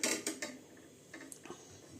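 A knife slits partway into a bitter gourd for cooking, giving a few short, close cutting and scraping sounds, with a couple of initial crisp strokes followed by faint scattered clicks.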